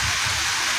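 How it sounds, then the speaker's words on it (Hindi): Heavy rain pours down steadily during a prolonged storm with thunder and gales, a dense close hiss of falling water with no clear thunder rumble in this brief moment. "24 घंटा से लगातार बारिश, बिजली का गड़गड़ाहट, आंधी तूफान सब कुछ है"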